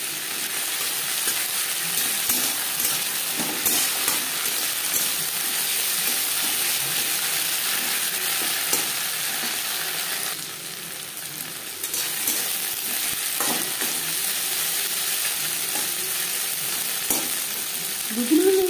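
Ginger and green chili paste frying in oil for a red lentil khichuri, with a steady close sizzle and occasional scrapes and clicks from a stirring spoon throughout.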